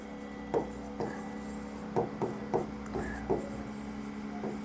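Marker or chalk strokes scraping across a board in short separate bursts, with a steady low hum running underneath.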